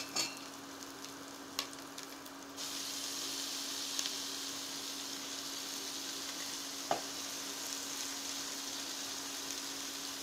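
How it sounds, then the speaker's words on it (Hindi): Chopped spinach fries with turmeric in a pan, a low crackle that swells into a steady, even sizzle with a few faint stirring clicks. "इसमें आप 1/2 चम्मच हल्दी पाउडर डालेंगे, मिक्स कर लेंगे। और काटी हुई पालक डाल देंगे।"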